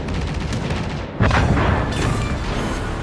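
A deep explosion booms as an enemy battleship is destroyed in World of Warships, a sudden loud blast rising over steady rumbling battle noise and rolling on for a couple of seconds.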